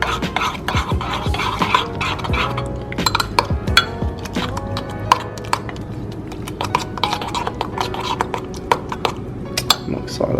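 A spoon scrapes and clinks against a bowl while cooked oats are stirred, giving a run of close, sharp taps and rattles with some faint voice in the background.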